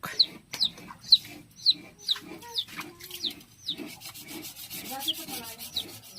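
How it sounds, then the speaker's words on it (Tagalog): Chickens in a rural province yard giving repeated sharp clucks at a regular rhythm, close and fairly clear, alongside scraping and rubbing sounds. "Manok."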